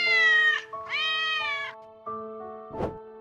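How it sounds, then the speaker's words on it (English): A cat meows three times in close succession: two long, drawn-out calls and a shorter one, followed by a brief dull thump, all near and clear with nothing else around. "Cat."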